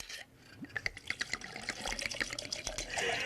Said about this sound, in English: Actually, just 1 ounce of vodka. Toss that in there.